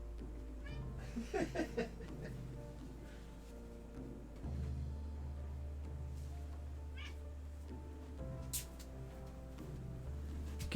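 A cat in the Graveyard Keeper game meows a few times near the start, its short voiced cries set over a steady low game hum that continues alone afterward.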